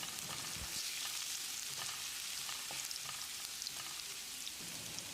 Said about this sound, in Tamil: 2 டேபிள் ஸ்பூன் பொடியாக நறுக்கின பூண்டு, 2 டேபிள் ஸ்பூன் பொடியாக நறுக்கின இஞ்சி. ஒரு 10 செகண்ட் இதை பரட்டி விட்டுடலாம்.